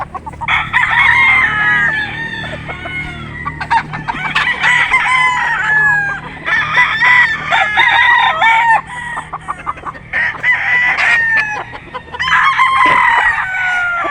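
A Gilmore street-breed gamecock rooster crows loudly and close, giving several long, ringing cock-a-doodle-doo calls separated by short pauses.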